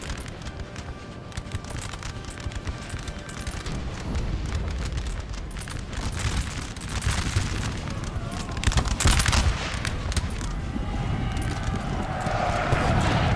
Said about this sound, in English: Well, they're all shooting.